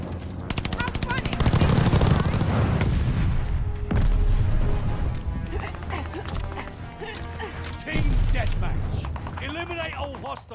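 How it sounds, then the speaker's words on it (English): Airstrike in a first-person shooter video game, with dense overlapping gunfire, heavy booms and explosion blasts layered over battlefield noise, loud throughout and peaking at several heavy impacts. "Friendly sending an airstrike."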